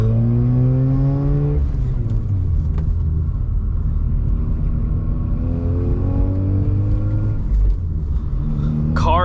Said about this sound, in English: Car is not fully warmed up yet